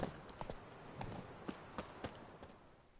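Hoofbeats of Roach, the horse in The Witcher 3: Hearts of Stone, clopping in an irregular series of sharp, fairly close thuds over a soft game background.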